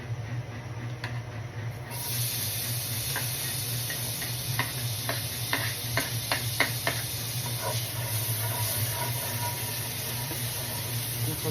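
Garlic sautéing in a pan for a carbonara with spicy tuna: a steady sizzling hiss that rises suddenly and holds, broken by light tapping clicks from stirring, close up with no talking.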